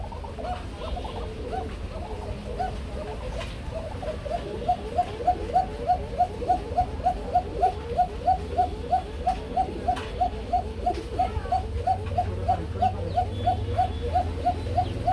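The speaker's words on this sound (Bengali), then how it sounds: "ডাকতেই থাকবে বন্ধুরা, ডাকতেই থাকবে। দিস ইজ কুকা কবুতর" Kuka pigeons coo in a rapid, regular run of repeated notes that starts partway through and continues steadily to the end, heard close with no talking.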